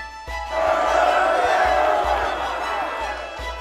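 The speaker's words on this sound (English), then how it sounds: "what's with this crowd of people?" A crowd of people gathered at the guild inn in the video game Grand Kingdom murmurs and chatters in a continuous indistinct swell, with scattered low thumps underneath.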